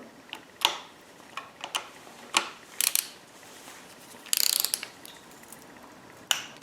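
A ratchet wrench tightens bolts on a 2012 Nissan Versa, giving short bursts of close clicking pawl ticks separated by pauses, with one longer loud rattle of clicks midway.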